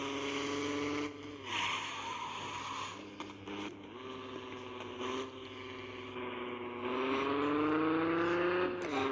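A BMW car engine at full throttle, a faint revving drone that rises in pitch in several surges, steady and without talk.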